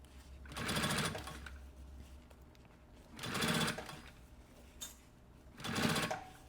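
A sewing machine stitches bias binding around the edge of a puffer backpack. It runs in three distinct bursts of rapid stitching, each about a second long, with quiet pauses between them.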